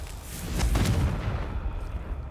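Fiery blast from the Confringo spell cast in Hogwarts Legacy, a single whooshing burst that swells quickly, then trails off into a rumbling low roar.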